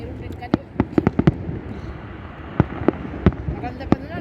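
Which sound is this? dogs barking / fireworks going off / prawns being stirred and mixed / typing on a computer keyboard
fireworks going off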